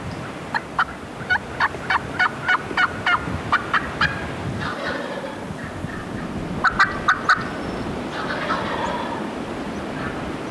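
Male wild turkeys gobble in rapid rattling bursts, a long run early and a shorter one later, fairly distant over steady outdoor background noise.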